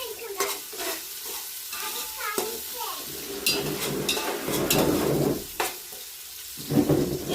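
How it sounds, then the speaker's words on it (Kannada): Onions frying in a pan for biryani in a home kitchen: loud, close sizzling broken by repeated scraping stirs and clanks of a spatula against the pan, with brief voice-like sounds in the mix. "ಈರುಳ್ಳಿ ಚೆನ್ನಾಗಿ ಫ್ರೈ ಆಗಬೇಕು ಬಿರಿಯಾನಿಗಾಗಲಿ"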